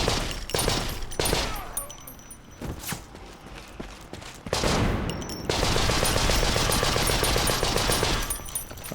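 Gunfire in the war video game Conscript: bursts of rapid shots and sharp single cracks, loud and close, ending in a long sustained volley, with footsteps mixed in between.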